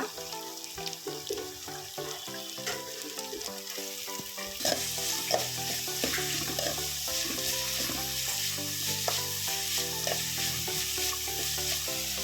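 Beans and carrots frying in a pan for vegetable uppittu, a steady close sizzle with stirring scrapes throughout, growing louder partway in as the vegetables go in.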